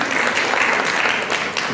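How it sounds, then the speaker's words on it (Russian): An audience at a Chuvash poetry festival claps in a dense, even burst of applause that stays loud and steady throughout. "Аплодисменты и поздравления со вчерашним орденом."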